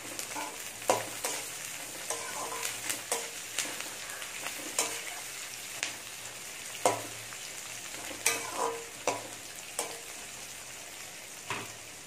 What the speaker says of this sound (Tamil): கொஞ்சமாக கருவேப்பிலை போட்டுக்கலாம். அதையும் சேர்த்து வதக்கிடலாம்.